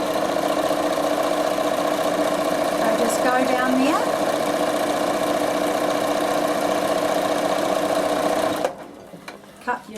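A Bernina sewing machine stitching fabric for a quilting project, a loud steady whirring hum running close for most of the time before stopping abruptly, followed by faint handling sounds.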